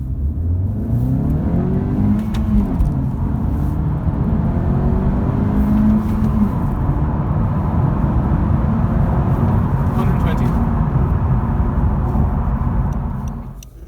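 A 2018 Honda Civic VTEC Turbo accelerates hard along a motorway hard shoulder and onto the motorway, its engine note climbing through the gears in rising sweeps, loud and close from inside the cabin.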